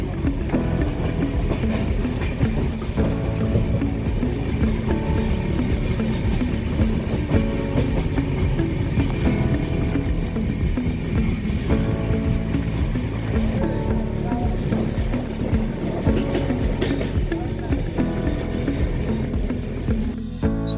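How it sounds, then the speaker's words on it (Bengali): A crowded moving train near Kalyan station heading toward Mumbai, a loud continuous rumble with rhythmic clattering of wheels over rail joints, steady for the whole stretch. "এখান থেকে ট্রেন ছেড়ে দিয়েছে।"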